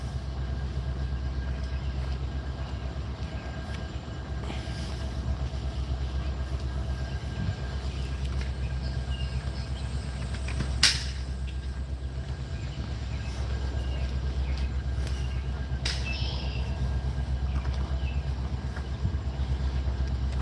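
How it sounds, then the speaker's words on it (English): A metro train passes with a loud, continuous low rumble and a steady drone that hold throughout, with occasional sharp metallic clicks and squeals over the top and no talking. "We'll just look at the metro train."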